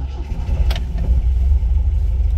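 A 1969 MGB convertible with a manual gearbox, its warm engine idling in a steady low rumble close by, with a brief higher rev blip partway through.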